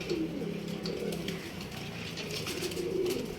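Pigeons around a rooftop loft, soft cooing and bird calls over a busy outdoor background, with flutters as birds take off; no speech.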